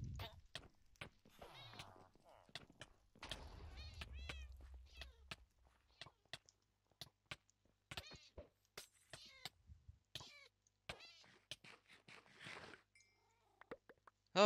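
Minecraft cat meowing as it is hit, several short high meows mixed with game hit sounds and clicks, heard under ongoing speech.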